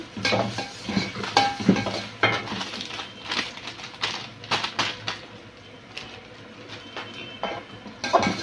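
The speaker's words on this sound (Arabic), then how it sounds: "معانا حلة فيها زيت هنحط عليها. حط الشعرية اهو" Vermicelli is stirred in hot oil in a pot, with busy scraping and clinking of a utensil against the metal pot and a soft sizzle underneath, close and irregular.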